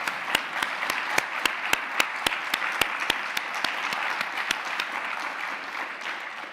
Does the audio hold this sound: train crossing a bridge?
no